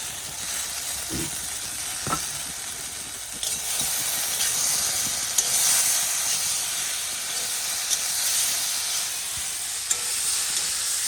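Spices sizzle in hot oil with a steady, bright hiss, broken by a few soft clinks and scrapes of stirring, while cooking hilsa fish with eggplant and poppy seed.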